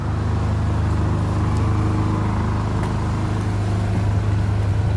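A Ford Ranger pickup with a repaired power steering pump rolls along a road, a steady loud engine and road-noise drone heard from inside the cab without letup.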